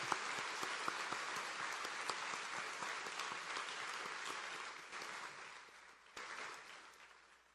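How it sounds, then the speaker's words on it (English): Sustained audience applause fills a room at a State of the City address in Baltimore, dense and steady clapping from a large crowd that dips briefly before swelling again near the end. "Let's give her a round of applause."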